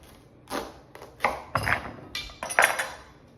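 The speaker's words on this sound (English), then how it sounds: "now that I have one end cut, I can stand it on the end and then cut right down the center" A knife cuts down the center of a spaghetti squash standing on end, giving several separate crunching, knocking strokes with short clicks, close and fairly loud, with no talk.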